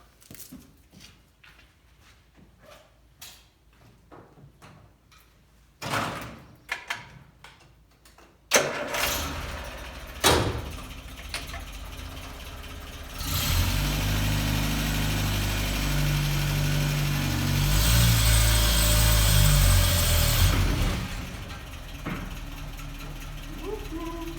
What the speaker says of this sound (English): Okay, driving it away now.